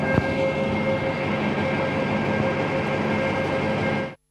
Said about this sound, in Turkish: tren yoluna kurulan elektronik uyarı sireni bozulunca birkaç dakika çalması gereken siren dakikalarca tren gelmese bile çalmaya